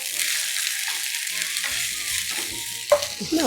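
Ginger-garlic paste fries loudly with sautéed onions for a Chettinad crab dish, a dense close sizzle with stirring scrapes near the end over faint background music.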